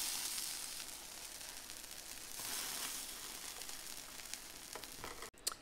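Plant-based patties cook quietly in a frying pan after being flipped, giving a soft, steady sizzle with faint crackles and a small clatter near the end. There is no speech.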